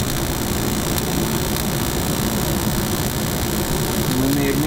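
A homeowner's garage heater runs steadily after ignition, gas flowing, with a broad constant roar and low rumble close by; a vent fan hums along and a voice speaks briefly over it.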